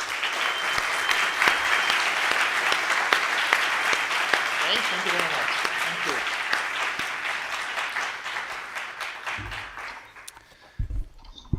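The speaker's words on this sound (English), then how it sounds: "A round of applause for our last speaker." Sustained, dense audience applause after the final speaker at LibertyCon Europe 2022, a libertarian conference; steady clapping fills the room before fading, with a brief spoken thanks near the end.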